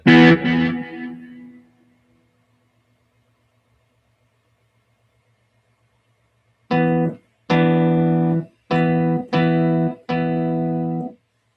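A brief processed note fades out, then after a pause five sustained electric guitar chords with a dual guitar effect ring out one after another, loud and close.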